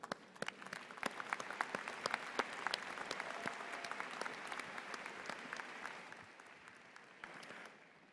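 Large audience applauding at a university commencement ceremony, sustained dense clapping across a big hall that swells then tapers off near the end.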